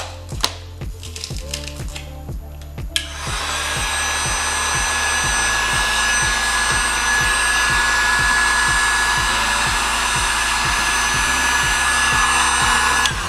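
A heat gun blows steadily on vinyl wrap being stretched over the front lip of a 2013 Kia Forte, a loud, continuous whooshing hum with a faint whine, following a few seconds of rapid clicking handling noise.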